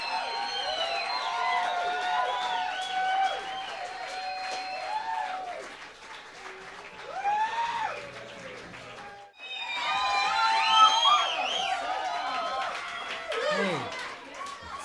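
An audience at a live country band show in Nanuet, New York, 1975, claps and cheers loudly with children's voices and chatter mixed in. The noise briefly dips before surging back even louder.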